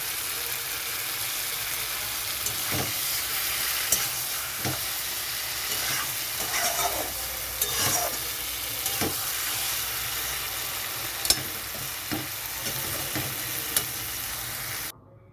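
Bottle gourd and poppy seed curry frying and sizzling in oil, a steady close crackle with occasional stirring scrapes and clicks throughout, no voices.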